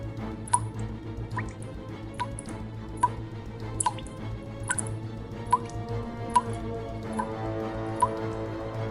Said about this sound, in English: I hear the faint sound of water dripping from somewhere nearby